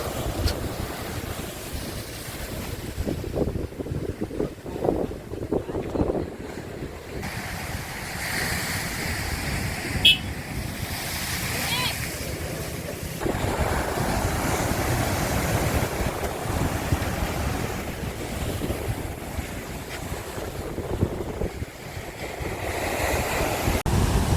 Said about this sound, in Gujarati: દરિયો તો એટલો ગાંડો થયો છે મોજા મારે છે